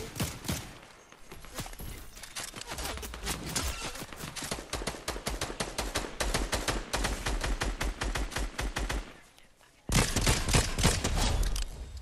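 Rapid Fortnite gunfire in a Chapter 4 Season 1 duos match, long bursts of sharp, evenly spaced shots rattling close by, a brief pause near the end, then another loud volley.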